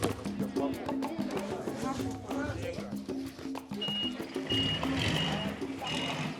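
A hired lorry carrying fish on a busy Kenyan roadside gives repeated reversing beeps among traffic noise and a bustling crowd, with voices talking throughout.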